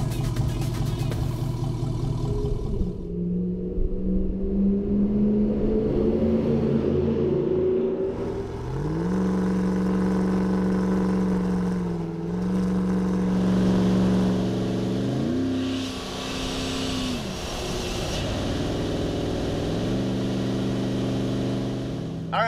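A Dodge Ram 1500 pickup on 37-inch tires, running a replacement 5.7 HEMI V8, drives along; a steady engine drone rises and falls through gear changes under continuous cabin rumble, heard from inside the cab.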